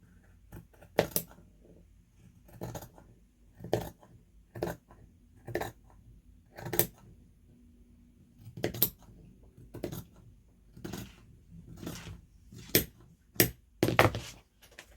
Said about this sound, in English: I'm just going to cut straight across and basically take off that bottom blue section